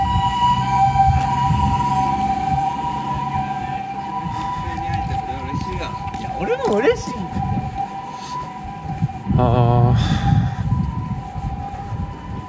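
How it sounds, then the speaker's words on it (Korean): An ambulance siren passing by outdoors, its wailing sweeps rising and falling over steady traffic rumble at moderate distance. "지금 응급차가 지나가서"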